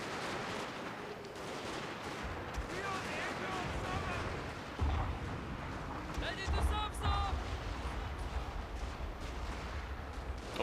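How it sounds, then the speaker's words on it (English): Distant cannon booms and crackling musket volleys roll through a Total War siege battle at Osaka in a video game, a continuous rumbling fusillade with sharper bursts, heard under someone talking. "Also have my cannons in place to help there"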